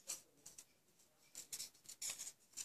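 Quiet snipping of scissors fussy cutting cardstock, a run of short, crisp cuts in an irregular rhythm, close by with no talking.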